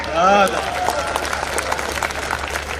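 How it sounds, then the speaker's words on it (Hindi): Audience applause at a Hindi poetry recital, a sparse, scattered clapping that runs steadily after a voice speaks briefly at the start. "तालियां कमजोर थी"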